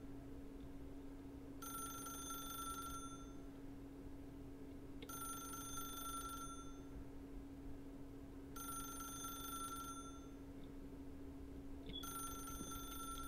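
A telephone rings in the video game The Stanley Parable, four evenly spaced bursts of bright bell-like trilling, each about one and a half seconds long, over a steady low electrical hum with no talking.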